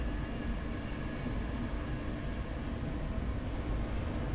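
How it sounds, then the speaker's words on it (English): A Class 91 electric train in Train Simulator 2021 slows under rheostatic braking near Doncaster on the Leeds to Doncaster route, giving off a steady, droning rumble of rolling noise without a break, and nobody speaks. "I'm using the rheostatic braking to bring us down towards 70 miles an hour"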